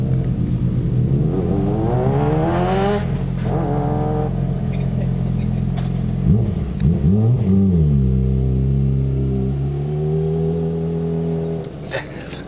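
A motorcycle engine, Kawasaki or Yamaha, revs while warming up. The engine note rises and falls in several sweeping revs over a steady idle rumble, loud and close.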